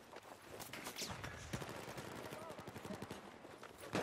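Rapid automatic gunfire in the Battlefield video game on the Golmud map, dense bursts of shots rattling steadily for several seconds, moderately quiet under game effects, with voices in the background.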